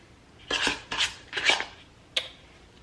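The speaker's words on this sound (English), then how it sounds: "Just scraping it out the bowl" A spatula scrapes cinnamon sugar mixture out of a bowl in three or four short, raspy strokes with a brief clink near the end, close and clear, no voices.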